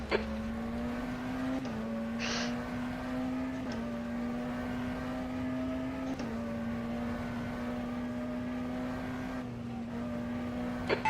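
Race car engine in the rFactor 2 racing game during Le Mans 24h testing, a steady high droning whine held throughout with brief dips at gear shifts.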